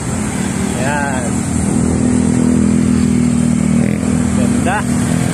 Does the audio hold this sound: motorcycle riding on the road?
yes